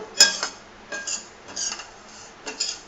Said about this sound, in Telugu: ఈ విధంగా దీన్ని ఫ్రై చేసుకుంటూ ఉండాలన్నమాట, కలుపుకుంటూ.